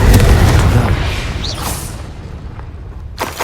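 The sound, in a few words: Incendio spell explosion in video game Hogwarts Legacy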